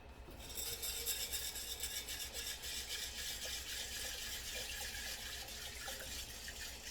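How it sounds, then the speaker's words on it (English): Popcorn kernels are rinsed with water in a jar, making a continuous soft hiss of running and swishing water with faint rattling underneath, steady and fairly quiet, with no talk. "I have 2/3 cup of product in here, which is the popcorn. I'm going to rinse it."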